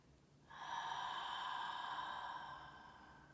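A slow ujjayi breath exhale, a long, steady, hoarse whispering rush of air pushed through a constricted throat, close and alone, rising quickly and then fading gently over about three seconds.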